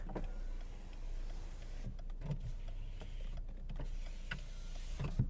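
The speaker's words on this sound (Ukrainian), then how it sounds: "Склопідйомники." Power windows on a Skoda Octavia Tour 1.6 MPI whir briefly inside the car, with a few motor runs and soft clicks and thumps as the glass stops, close and moderately quiet.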